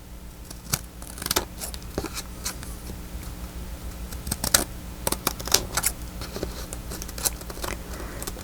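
Paper trimmed with small angled cuts at the corners for a faux-front journal envelope: scattered crisp snips and rustles, irregular and close, moderately quiet with no talk.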